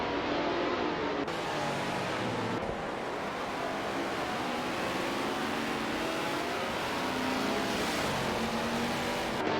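Racing car engines roar continuously in a racing video game with AI-driven cars, a dense, loud engine drone with shifting pitch and no talk.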